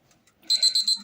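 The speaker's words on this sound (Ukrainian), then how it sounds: "Ось, спрацював таймер, час добіг кінця" A kitchen timer goes off with a short, loud, high electronic beeping, a quick run of pulses alone against a quiet background.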